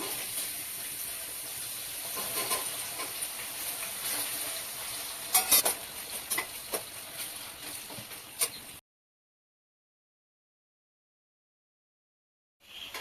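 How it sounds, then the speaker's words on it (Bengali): Chopped onions with whole spices for mutton kacchi biryani sizzle in hot oil as a soft, steady hiss broken by a few stirring clatters, then it cuts to silence before a brief return at the end. "পেঁয়াজ কুচিটা দিয়ে দিলাম"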